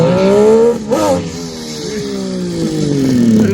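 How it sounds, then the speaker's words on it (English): A Kawasaki H2 motorcycle engine revs loudly up close, its pitch climbing, dipping briefly near the start, then rising and falling again in a few throttle blips without fully winding out. "I don't want to rev it out all the way."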